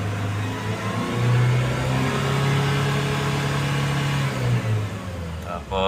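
A Chevrolet K2500 pickup with low power and engine vibration drones at low RPM with a steady, close hum that swells slightly as it is revved, and a voice is heard briefly near the end.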